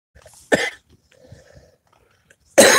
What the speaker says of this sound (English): Cough, cough, pass.